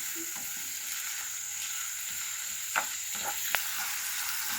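Sautéing in a pan for a cottage pie, a steady close sizzle and hiss with a few light utensil scrapes and taps.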